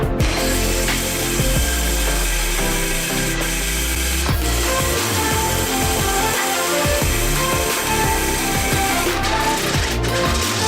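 A power saw cuts through a 2x4 and a sheet of plywood in a garage, a loud, steady motor whine with a grinding buzz that runs without a break.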